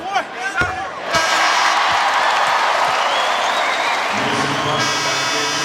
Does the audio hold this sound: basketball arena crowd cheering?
yes